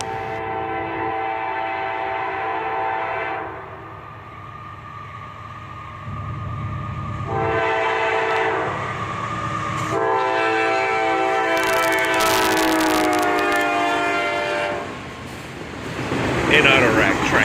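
An auto rack freight train led by an AC44CW locomotive rumbles past at dusk, its horn sounding in several long, loud blasts over the steady rolling of rail cars.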